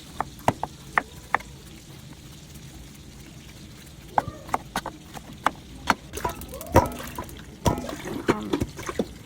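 Cut fish pieces being washed by hand in water, with repeated close splashes, drips and sloshing knocks that grow busier toward the end, and no talking.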